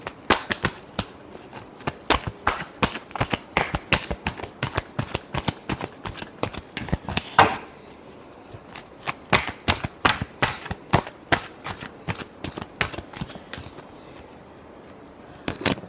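Tarot cards are shuffled by hand in a quick run of crisp, close riffling snaps and flicks, with a short pause midway before the shuffling resumes.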